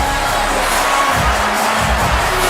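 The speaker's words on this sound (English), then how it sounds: "you already hear the crowd's reaction" Crowd cheering and shouting in reaction to a pick at an internet wrestling draft, a loud continuous wash of voices with no break.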